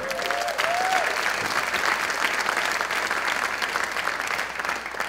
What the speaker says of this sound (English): Please give a round of applause for John Burns.